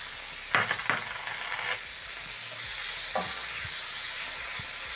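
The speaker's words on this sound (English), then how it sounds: "stir in the tomatoes" Diced tomatoes are stirred into onions frying in butter in a chicken stew pot: a soft, steady sizzle broken by a few brief scraping stirs, close and fairly quiet.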